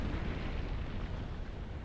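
An exploding enemy in a video game blows up as a low, dull rumble that rolls on steadily and fairly faintly with no sharp crack, like the tail of a distant blast.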